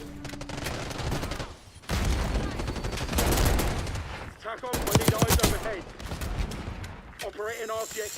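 Loud bursts of RC submachine gun fire in the Black Ops 6 beta, rapid automatic volleys broken by brief gaps, mixed with mechanical clatter and game sound effects.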